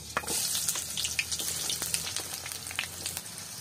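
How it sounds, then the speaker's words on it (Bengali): Onion and chilli hit hot oil in a pan over a clay stove for prawn bhuna, producing a close, continuous sizzle scattered with sharp pops and crackles, with no one speaking. "তেল মোটামুটি গরম হয়ে গেছে, এখন আমাদের দিতে হবে পেঁয়াজ এবং মরিচ।"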